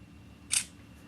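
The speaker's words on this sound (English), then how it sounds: "Let's take a picture of our friend here." A single quick shutter click from a Nexus S smartphone camera taking a picture, short and crisp against a quiet background.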